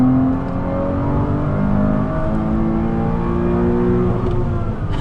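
A 2007 Porsche Cayman 2.7 engine revs hard and holds high at the rev limiter, a loud, steady, buzzing roar with layered harmonics throughout.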